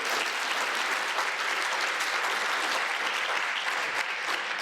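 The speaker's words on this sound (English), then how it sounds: "you can clap for that." A crowd at a union meeting applauds in dense, continuous clapping that holds at an even level from start to finish, with no talk over it.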